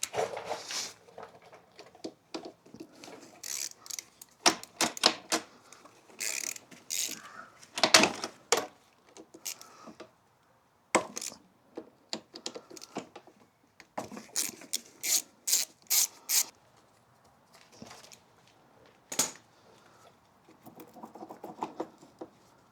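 A hand ratchet clicks in short bursts while 10 mm bolts are backed out on a Honda XR200R motorcycle, interspersed with faint tool handling and quiet gaps.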